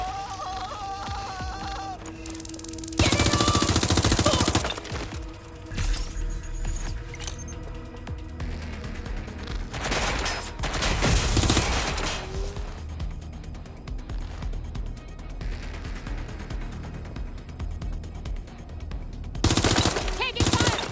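Gunfire in the video game Watch Dogs: Legion, with rapid automatic bursts and single shots alongside mechanical clatter, loud and close, coming and going over about twenty seconds as characters shout over it.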